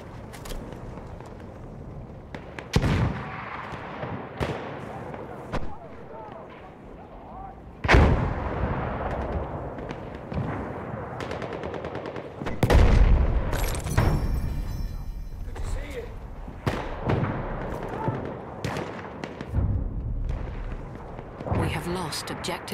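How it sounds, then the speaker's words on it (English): Battlefield 1 combat, with a grenade blast and gunfire: heavy booming explosions and bursts of shots come in irregular waves over constant battle noise, and voices shout in the background. "Throwing a grenade!"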